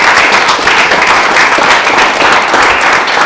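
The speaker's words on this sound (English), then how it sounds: "Round of applause, and we'll get that gift." Sustained applause fills an award ceremony hall, a dense, steady wash of many hands clapping at even loudness throughout, with no voices rising above it.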